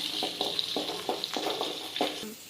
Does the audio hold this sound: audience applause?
no